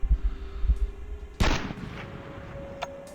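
A sniper rifle fires a single loud, booming shot in the tactical shooter game Sniper Tactical, followed by a ringing tail and faint game ambience.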